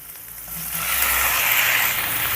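Onion and three chopped medium tomatoes fry on a medium flame for a chutney, a close sizzling hiss that swells louder after the first second and holds steady.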